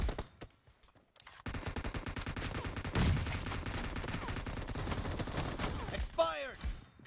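Dense automatic gunfire from a PUBG Mobile team deathmatch roars almost nonstop for several seconds, loud and close, after a few scattered shots, then ends in a sweeping whoosh.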